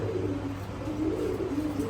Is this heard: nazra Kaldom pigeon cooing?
yes